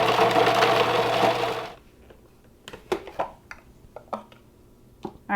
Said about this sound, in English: place it in my food processor, and I'm just going to blend this up until it's finely chopped